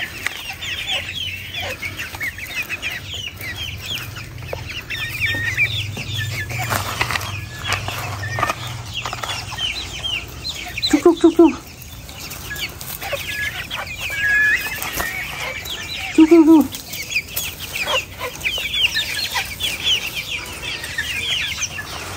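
Serama chickens, a small bantam breed kept as a flock of about twenty, cluck steadily with two short, loud crows standing out mid-clip over a low rumble and busy farmyard background.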